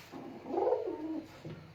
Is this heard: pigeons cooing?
yes